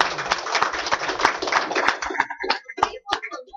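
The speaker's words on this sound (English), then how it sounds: "I think we need to give Sherry a big round of applause for driving that through" Indoor audience applauds at an anniversary and internship graduation event, many hands clapping in a dense burst that thins into a few scattered, separate claps near the end.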